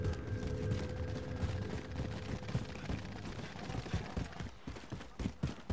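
Faint, rapid bursts of distant gunfire in Call of Duty: Modern Warfare crackle steadily, growing sharper and more frequent toward the end, under a low rumbling background.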